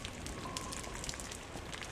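Steady rain patters on surfaces as a soft, continuous hiss throughout, in the video game Lies of P.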